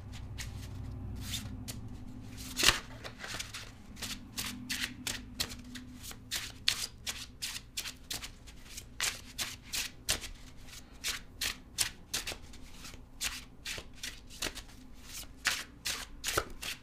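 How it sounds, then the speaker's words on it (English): Tarot cards are shuffled close up in a quiet room, with a run of crisp riffling bursts repeating in an even rhythm and no talk. "I'm going to clarify the cards and pull some advice."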